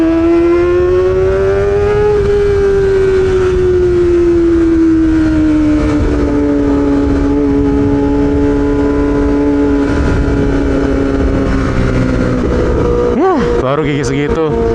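A Kawasaki ZX-25R motorcycle engine revs continuously and loudly while being ridden, its pitch climbing and easing through the gears, with a sharp rev burst near the end and a rider talking over it.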